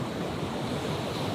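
Ocean waves surging against rocks on the Oregon coast, a continuous loud wash of surf mixed with wind noise, with no voices.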